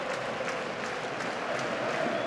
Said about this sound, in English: Great atmosphere, even though the crowd are quite a long way away from the pitch in this stadium.